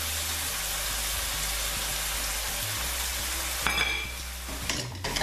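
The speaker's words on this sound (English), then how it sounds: "And we're gonna add our 100 grams of tomatoes, right?" Tomatoes are added to curry gravy in a hot pan with aubergine and potato. A steady broad sizzle is broken near the end by a louder burst of spattering and the clink of utensils against the pan.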